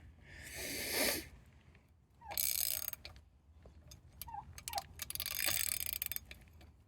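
Gearwrench 3/8-inch drive XL 120XP ratchet working lug nuts on a Grand Cherokee 4.0 inline-six with a 3-inch extension, giving bursts of fast, close clicking separated by short pauses and clanks.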